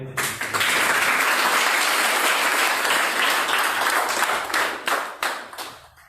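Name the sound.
audience applause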